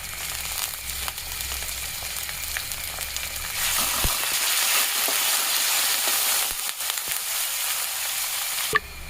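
Chicken pieces go into hot oil with softened chopped onions, sizzling loudly and steadily up close, the frying swelling as the meat is added, with occasional stirring knocks.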